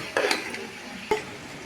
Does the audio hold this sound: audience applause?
no